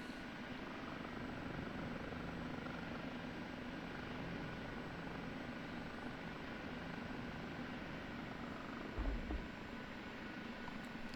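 Simulated OH-58D Kiowa Warrior helicopter in the DCS flight simulator coming down to land, a steady close rotor and turbine drone with a brief thump near the end as it touches down.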